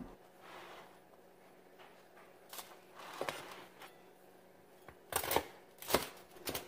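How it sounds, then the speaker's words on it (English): A knife slices through a French bread pizza topped with cheese, giving soft crunchy crackles and a couple of sharper crisp cuts near the end, close and quiet with no talk. "So make sure it's a swift cut when you cut into this."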